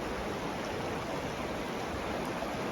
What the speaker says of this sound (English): standing beside the Arkansas River here below Salida